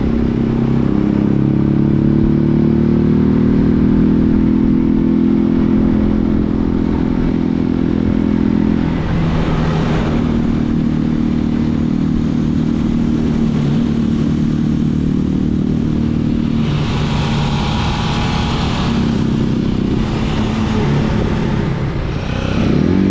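A Janus motorcycle's small single-cylinder engine runs close by for a long stretch, idling steadily and then revving up in throttle blips, with some mechanical clatter. The engine sounds alone and loud throughout.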